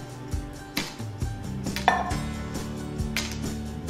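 Whisking champurrado with evaporated milk being poured in produces repeated clinks and scraping knocks of a whisk against a pot, irregular and close, with no talking.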